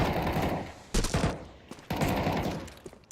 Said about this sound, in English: with those AK rounds coming out from Ellie